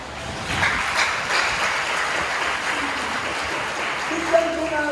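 A church congregation claps together in a steady, broad wash of applause that fills the room, with voices mixed in underneath throughout.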